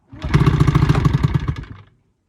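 Old Evinrude 20hp outboard engine running close by, a loud, steady rough putter with rapid regular firing pulses for about two seconds before cutting off abruptly.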